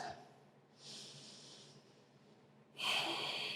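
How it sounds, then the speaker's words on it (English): Deep, audible breaths during a yoga triangle pose, a long hissing exhale followed by a stronger, louder breath near the end, close and alone with no talking. "Two more deep breaths"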